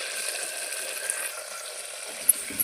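Curry leaves and onion fry in a pan for a Jilebi fish curry, giving a close, continuous bright sizzle and crackle with a couple of sharp pops near the end.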